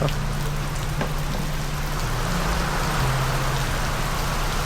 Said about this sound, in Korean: 점점 많아져, 비가.